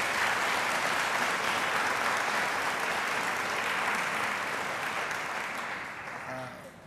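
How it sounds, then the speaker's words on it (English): Sustained applause from an audience at a poet laureate award ceremony, dense and steady throughout before tapering off near the end. "So let's give them a big round of applause for all their work."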